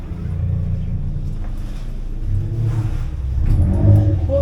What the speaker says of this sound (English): you can hear me muttering about a noisy revving up driver as I do so